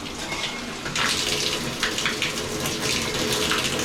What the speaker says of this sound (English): So let's just turn some water on.